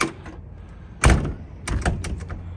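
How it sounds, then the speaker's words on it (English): An older Ford truck door swings shut with a single solid thunk, followed by a softer second bump and rattle, close by and loud against a quiet background. "So if we look at this door here, I'll close that time, but it's usually pretty hard to close."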